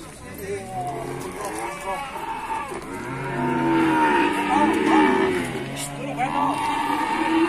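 Young bull calves at an Indonesian livestock market low and moo loudly in several long, drawn-out calls, with crowd noise and talk in the background.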